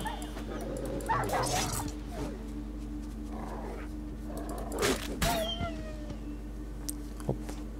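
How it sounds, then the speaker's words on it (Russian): Stray dogs in the video game The Witcher 3, barking, growling and whimpering in short bursts over a low ambient hum, with someone talking over them. "Бродячие псы, да?"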